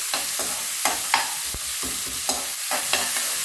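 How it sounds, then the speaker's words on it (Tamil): Onion and green chilies fry in a pan, a soft background sizzle broken by repeated scraping stirs of a spatula at an uneven pace, close and clear with no voices. "இந்த வெங்காயம் பச்சை மிளகாய் போட்டு ஃப்ரை பண்ணணும்."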